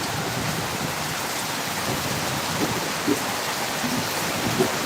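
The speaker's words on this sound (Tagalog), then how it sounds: "Super lakas ng ulan." A downpour of heavy rain roars continuously close by, a thick wash of drumming drops with a few slightly louder splashes and no talking.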